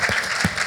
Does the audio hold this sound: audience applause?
yes